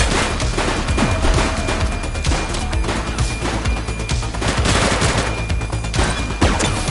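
Dense, continuous gunfire in a street pursuit, loud rapid bursts and shots overlapping without pause for the whole stretch, no voices heard.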